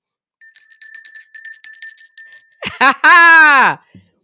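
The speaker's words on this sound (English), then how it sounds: "When we ring that bell, that's our trigger to say counseling." A small bell rung repeatedly in a quick, bright ringing series lasting about two seconds, close and clear, followed by people voicing a loud response.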